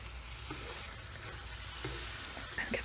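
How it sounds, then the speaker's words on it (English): Stir-fried vegetables sizzle and crackle steadily in a hot pan of sauce, with soft scraping stir strokes breaking through now and then; quiet and close, with no voices. "Just keep stirring it to get that sauce really well coated over everything"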